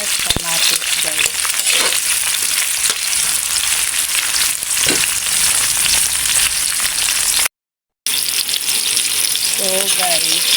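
Garlic, onion and tomato sauté in a pan with a loud, continuous sizzle and occasional stirring clatter. The sound drops out for a moment near the end, and a brief tonal sound rises over it at the close.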